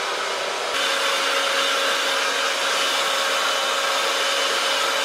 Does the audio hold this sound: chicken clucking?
no